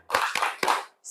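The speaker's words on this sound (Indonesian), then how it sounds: "Oke, tepuk semangat." Elementary class doing a spirit clap in an Indonesian school lesson on magnets: three quick, sharp bursts of clapped hands in a steady rhythm, close and fairly loud, followed by a short voice.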